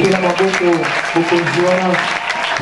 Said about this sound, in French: Acclamons pour ce royaume-là